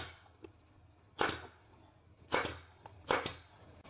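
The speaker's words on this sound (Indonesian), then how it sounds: "kita coba ya menggunakan paku tembak" Three sharp pneumatic bangs from a nail gun powered by an Austin AS2 1300-24 compressor at 4 bar ring out at uneven intervals in a quiet space, each a loud crack with a short hiss, preceded by a faint click.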